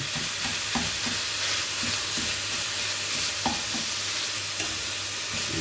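Ground chicken frying in a pan for a Filipino minudo-style dish, a steady close sizzle with periodic scraping clicks of stirring throughout, no voices.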